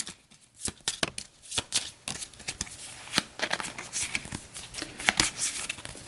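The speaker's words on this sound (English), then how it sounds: "We'll give this a quick shuffle." A small six-card deck of Astro Knights Eternity game cards being shuffled by hand, a run of quick papery riffles and slaps close up with no talking.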